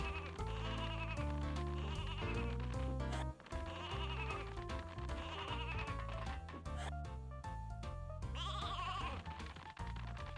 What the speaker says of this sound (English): At least the sheep noises are cute.